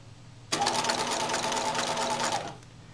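A sewing machine stitching fabric runs in a single steady burst of rapid mechanical whirring and clatter for about two seconds, close and fairly loud, then winds down and stops.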